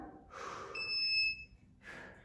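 A workout interval timer buzzer gives a bright, sustained electronic beep tone during a resistance band strength session, set between loud, heavy breaths.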